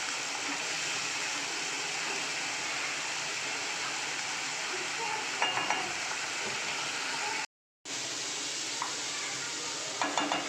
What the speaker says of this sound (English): Again I have to fry it for minimum 3 minutes so that the raw smell can go away.